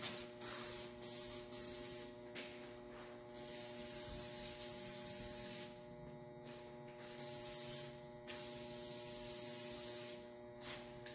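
A spray paint can laying a light dust coat of flames onto a van hisses in several long and short bursts, close and loud, with steady electrical hum in the gaps between them.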